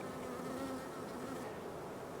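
Honey bees buzzing steadily at a hive that has just been given 1-to-1 sugar water, a continuous close drone with no voices.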